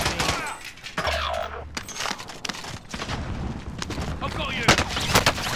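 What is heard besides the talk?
gunfire in a video game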